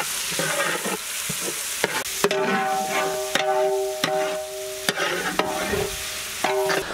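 Finely chopped onions fry in hot oil with cumin and fennel seeds for a murrel fish curry, making a close, steady sizzle punctuated by sharp clanks of a spoon stirring against the pan.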